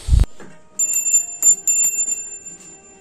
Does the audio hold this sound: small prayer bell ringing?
yes